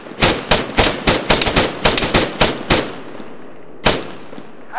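Gunfire in the military shooter ARMA 3: a rapid series of loud, sharp shots in quick bursts, then a pause and one more shot, with no talking.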